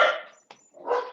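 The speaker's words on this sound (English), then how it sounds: "The dog has so much to say about Jason." A dog barks in two quick, loud, close bursts separated by a brief pause, with a short yip-like sound in between and no speech.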